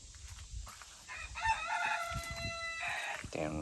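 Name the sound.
rooster crowing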